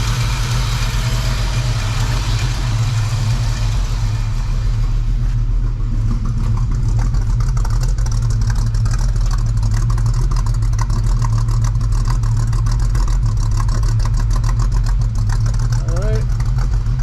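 A 1964½ Ford Mustang engine with a mild cam idles after a cold start with a steady, deep rumble and a slightly lumpy rhythm, loud and close, holding even throughout.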